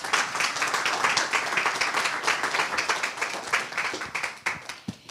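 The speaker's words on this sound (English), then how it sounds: "Let's give them a round of applause." An audience claps for a panel of judges at a TEDx applicant showcase night, a dense sustained round of applause that thins toward the end into a few scattered, sharper claps.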